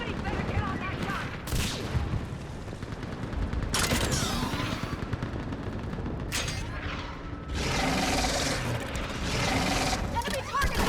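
A mounted gun fires in Mass Effect 3 Legendary Edition on Thessia, with bursts of rapid gunfire, booms and mechanical clatter loud up close, broken by short lulls.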